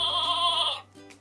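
A sheep bleats once in a single sustained, wavering cry that sounds close and clear, then breaks off, with no talking over it.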